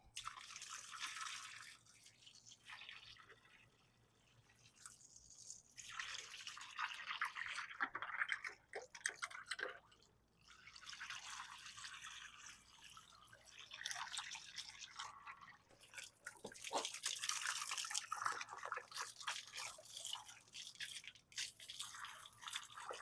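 Running water rinses crystals and agates after an Iron Out soak, a steady close splashing hiss that swells and dips, with a few brief lulls and no voices.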